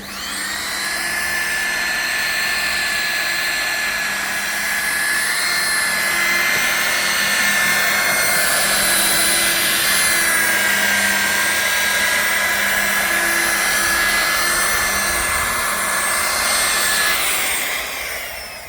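Machine polisher buffing block-sanded paint on an Alfa Romeo, a loud, close, steady whirring drone with a high whine that holds for the whole stretch without pause.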